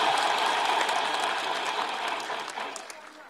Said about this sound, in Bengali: আমাদের উচ্ছ্বাসের জন্য একটা জোরে হাততালি দিই